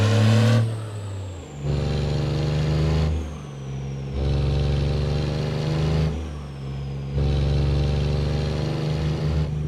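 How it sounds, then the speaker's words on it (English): Cat C12 diesel truck engine in American Truck Simulator, loud and close, revving up through several gears in repeated rising pulls with brief dips between shifts, no voices over it. "the C12 engine within it, as far as I know, is technically just the stock American Truck Simulator version"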